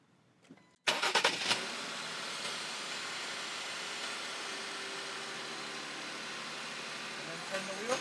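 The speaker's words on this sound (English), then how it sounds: "he's going to turn the car back on" A Jeep JL engine cranks and catches after a quiet moment, then settles into a steady, loud idle that continues to the end, during a power steering boost kit install.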